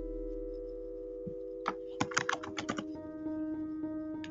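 Soft keystrokes tap on a computer keyboard in a short irregular burst while entering a server IP address, set against a steady electronic hum.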